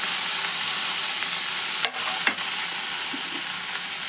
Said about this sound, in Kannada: ಎಣ್ಣೆ ಹಾಕ್ಕೊಂಡು ಹುರ್ಕೋಬೇಕು ನೋಡ್ರಿ